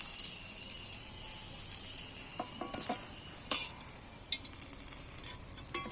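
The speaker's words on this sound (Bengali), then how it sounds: "আস্তে আঁচেতে আস্তে আস্তে ভাজতে হবে" Steady sizzling of jackfruit and shrimp frying over low heat in a pan, with occasional soft clinks and scrapes of stirring over it.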